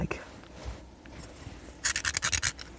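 A drywall screw scratches across a very hard M35 material in a quick burst of sharp, close rasping strokes near the end, after quieter handling noise.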